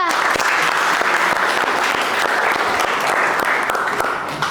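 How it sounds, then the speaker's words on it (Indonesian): Steady applause from a class of students for group 2, with many hands clapping densely and evenly at close range throughout, unbroken by talk. "Give applause untuk kelompok 2."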